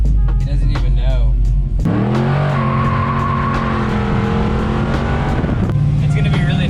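A Chevy Bel Air with a swapped LS3 V8 and no interior drives loud and droning, the engine rising in pitch as it accelerates, then shifting and pulling steadily, with steady cabin road roar.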